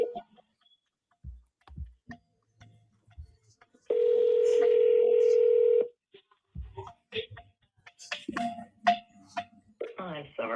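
A phone call connects through an automated voicemail system, with a sustained call tone of about two seconds between short electronic beeps and clicks, followed by a clipped recorded voice prompt toward the end.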